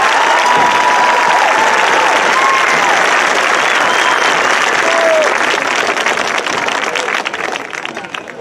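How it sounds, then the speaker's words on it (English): Sustained applause from a large crowd at a high school graduation commencement ceremony, loud and steady for several seconds before gradually tapering off near the end, with no talking over it. "one last round of applause for this row of graduates"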